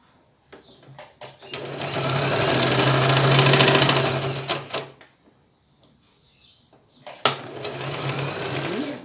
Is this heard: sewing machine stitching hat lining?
yes